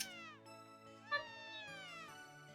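A cat meows in a video game, a few drawn-out, sliding mewing calls over soft game music, with a small chime partway through.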